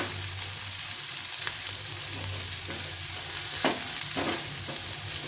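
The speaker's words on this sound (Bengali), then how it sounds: "বেশ কিছুক্ষণ ধরে একটু ভালো করে ভেজে নিতে হবে, যেন কাঁচাটা না থাকে।" Boiled pasta, lightly salted, stir-fried in a pan, giving a steady close sizzle with scattered scraping and stirring clicks and no talk.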